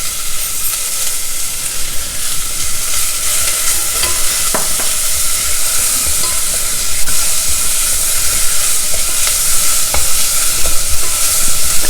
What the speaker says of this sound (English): Stir fry it till the onions become translucent.